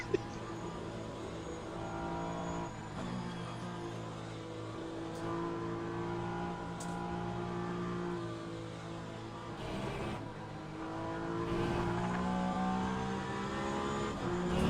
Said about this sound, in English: You say that as I'm drifting sideways into Porsche curves.